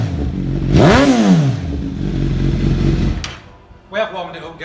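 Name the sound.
Suzuki GSXR1000 motorcycle with Yoshimura exhaust starting up and revving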